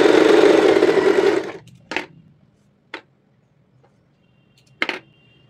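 An Usha Allure DLX sewing machine stitching in a steady rapid whirr for about a second and a half, then stopping, followed by a few sharp clicks and taps of handling nearby.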